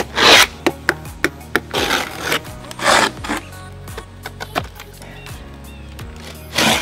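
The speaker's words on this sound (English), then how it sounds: "I just had to make a few more cuts on this cedar to make sure the tile could properly slide under." Hand saw cutting cedar wood during a cement board and tile installation, with rasping strokes in an uneven rhythm, some short and some longer sweeps, close and fairly loud.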